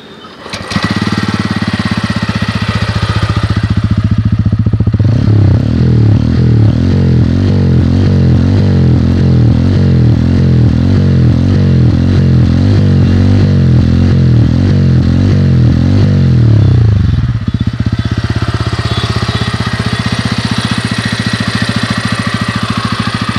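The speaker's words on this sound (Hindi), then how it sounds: "बाकी आपको इसका जो एग्जॉस्ट नोट है वो मैं आपको सुनाता हूँ" A 2022 TVS Ronin 225 scrambler motorcycle fires up on a quiet starter motor and settles into a loud, close, thumping single-cylinder exhaust note. The engine holds a steady idle that revs briefly before the sound falls back.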